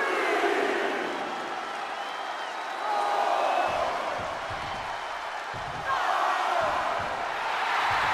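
Crowd at a wrestling bash match cheering in waves, a broad roar that swells and fades twice while a commentator talks over it.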